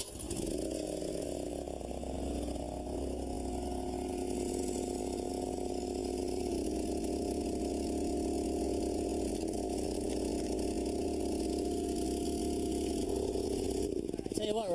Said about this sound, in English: is a gas-powered splitter with a big hydraulic piston on it that drives the wedge